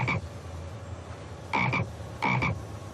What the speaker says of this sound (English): He says he's never seen any other frogs.